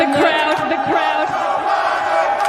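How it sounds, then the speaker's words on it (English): A large crowd chants "Let's go, Brandon" in loud, rhythmic unison, the massed voices steady and continuous throughout. "as you can hear the chants from the crowd"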